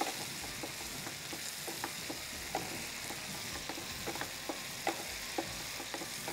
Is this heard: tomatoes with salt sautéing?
yes